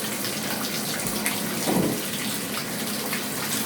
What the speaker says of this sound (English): You can see that the water is draining properly now.